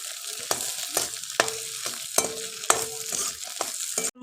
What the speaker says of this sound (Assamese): এতিয়া মই ডিমকেইটা খুব টাইটকৈ আচলতে এনেকৈ ভাজি ল'ম